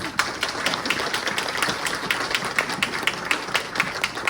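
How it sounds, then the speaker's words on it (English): Audience applause at a district public safety town hall, a steady wash of many hands clapping through the whole stretch with scattered sharper claps standing out, fairly close and continuous. "We give them a big round of applause."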